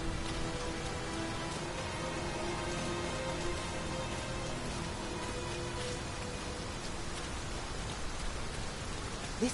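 Heavy rain in the video game Dragon's Dogma 2 pours steadily, a dense continuous hiss of drops drumming on surfaces, with no talking.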